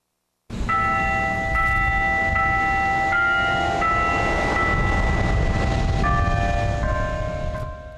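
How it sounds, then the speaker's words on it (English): Carillon bells of the Denny Chimes tower at the University of Alabama ring a slow melody, sustained tones overlapping over a steady outdoor background hum, with no talking. "Earlier, Danny chimes played in memory of Dr. Sorensen."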